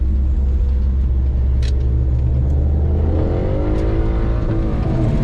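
A log truck with a two speed axle drones through a rolling turn, its diesel engine giving a loud steady rumble that climbs slightly in pitch as the revs build.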